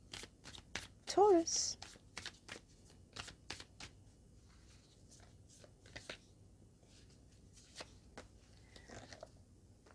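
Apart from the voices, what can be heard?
shuffling animal spirit cards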